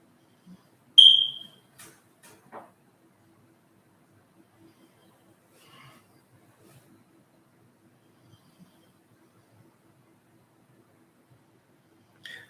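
A smoke alarm gives a single loud, shrill electronic chirp early on, then faint scattered sounds and long near-silence, with another short high chirp at the very end.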